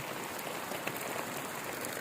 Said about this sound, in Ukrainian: Це не страшний дощ, нічого страшного.